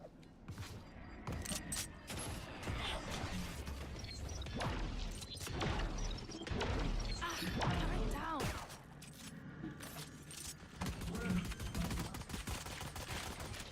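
Rapid gunfire bursts from a Valorant esports match, fired through a smoke, crackle amid game effects and mechanical clatter under steady caster commentary.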